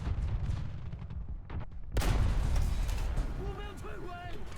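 A Leopard anti-air tank opens fire in War Thunder's tank simulator battles: a sudden loud burst of close cannon fire erupts midway and rolls on over rumbling engine noise, with a voice briefly heard near the end.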